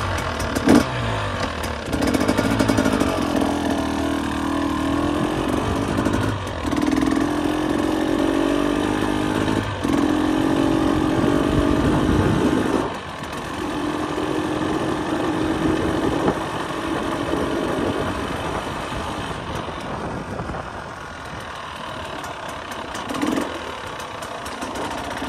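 A 2023 KTM 300 EXC two-stroke dirt bike engine runs close by for the whole stretch, rasping and buzzing as it idles and revs in uneven surges, with a brief dip partway through and a slightly quieter tail.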